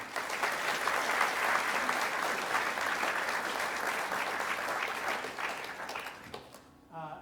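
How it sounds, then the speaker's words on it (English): Strong, sustained applause fills a hall at a school Hall of Fame ceremony, a dense wash of clapping that holds for about six seconds before fading out abruptly. "let's please give them a round of applause"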